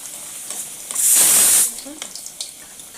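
Pea-filled kachori dropped into very hot oil in a wok, giving a loud burst of bubbling sizzle that lasts about half a second before settling into quieter crackles.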